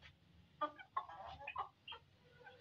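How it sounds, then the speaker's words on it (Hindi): Chickens clucking on a farm where goats are kept, faint, with a few short clucks and calls spread over a low background hum. "मुर्गियाँ भी हैं"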